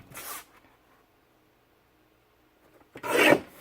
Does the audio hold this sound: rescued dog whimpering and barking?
no